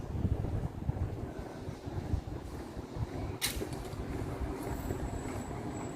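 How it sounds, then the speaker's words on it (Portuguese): Wind blows steadily outdoors, a continuous rumbling rush buffeting the microphone throughout, with a brief sharp gust or rattle midway and no talking. "Eu posso ouvir o vento que passou agora, que tá batendo agora."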